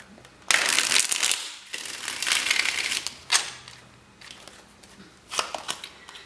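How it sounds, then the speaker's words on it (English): Tarot cards are shuffled by hand in several quick riffling bursts, crisp and close, separated by short quiet gaps, with no talking. "One more shuffle."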